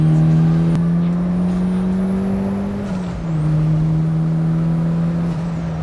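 Turbocharged Mazda Miata engine on a track drones loudly and steadily, pitch holding high before dipping briefly near the middle as the car shifts, then settling into a sustained near roar; no talking.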